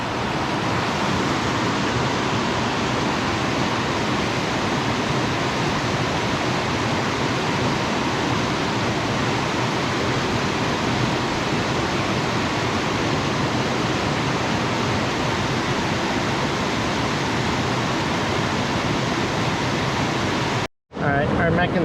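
Clear creek water fed from Mount Hood rushes steadily and loudly close by along the Pacific Crest Trail, a constant broadband wash that drops out for an instant near the end.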